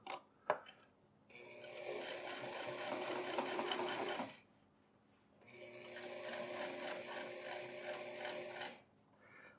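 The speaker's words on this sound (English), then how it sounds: "Now I can run a top stitch from here, up, across the top, down the other side, and reconnect over here." A sewing machine topstitches a pair of jeans in two sustained runs of rapid, steady mechanical stitching, separated by a short pause, with a sharp click at the start and no talking.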